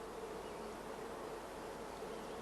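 A honeybee colony hums with a continuous, even buzz, soft and steady throughout, with no other sounds over it.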